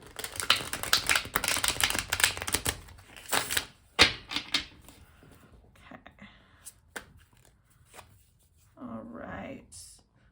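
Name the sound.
shuffling and cutting a tarot deck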